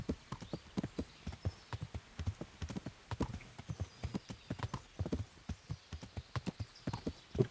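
Horse hooves clip-clop at a steady walking rhythm on a trail in the medieval game Kingdom Come: Deliverance, a long run of close, fairly quiet hoofbeats with no talking over them.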